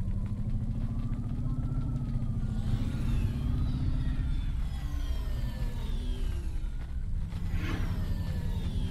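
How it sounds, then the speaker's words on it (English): A hovering car in the video game Cloudpunk drones with a steady low engine hum, overlaid by whining, rising and falling synthetic tones as it sounds strained and close to failing, with no talk. "my car is like making weird noises like it's about to blow up"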